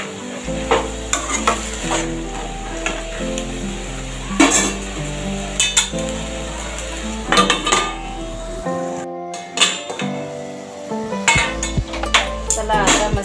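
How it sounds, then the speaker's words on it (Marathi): Onion leaves being stirred and tossed in a frying pan: repeated scraping and clinking of a utensil against the pan over a low, continuous sizzle, close and fairly loud, with brief pauses between strokes. "परत एकदा तिला चांगली परतवून घ्यायची वर खाली करून, म्हणजे भाजी व्यवस्थित शिजते"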